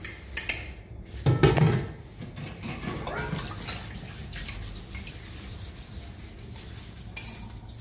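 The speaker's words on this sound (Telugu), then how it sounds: "గిన్నెలు తోముతున్నాను." Dishes, pots and utensils being scrubbed and washed with water, with clinks and clatter of metal cookware rising early on over a steady wash of running water and faint background noise.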